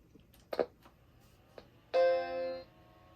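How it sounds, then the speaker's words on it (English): Startup chime of a recapped Macintosh IIsi computer, one loud sustained tone after a few small clicks and taps, close and clear, with no talking. "So it is chiming, which I tried this before and it was not chiming."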